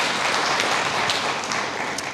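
A church congregation claps together in sustained, dense applause. The sound is steady and fairly loud across the room, with no clear voices over it.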